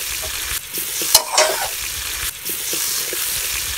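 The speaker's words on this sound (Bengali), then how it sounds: "পুদিনা পাতা দিয়ে আমি নেড়ে চেড়ে নামিয়ে ফেলবো" Chicken with mint leaves stirred in a frying pan, a loud, constant sizzle close up with brief scraping stirs and a few utensil knocks throughout.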